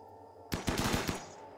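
Gunfire in the RimWorld video game erupts as a rapid burst of about eight loud, close shots after a short quiet pause, fading out quickly.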